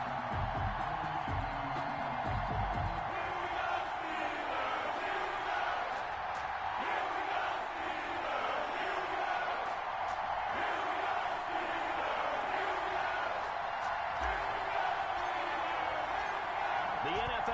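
Simulated stadium crowd from an EA Sports NFL video game, Baltimore Ravens versus Pittsburgh Steelers, roars as a steady, dense wash of cheering throughout, with no clear individual voices standing out.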